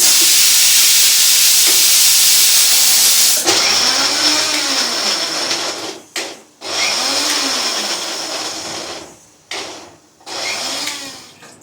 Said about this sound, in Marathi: मिक्सर बरं पडतं हे क्लिनिंगला पण बरं असतंय